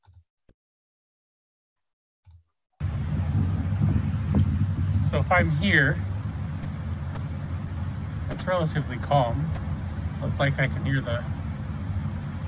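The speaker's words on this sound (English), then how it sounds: "hear the traffic on the road," Steady low rumble of traffic on a nearby road, heard outdoors on open land as a continuous distant hum beneath a person speaking calmly close by.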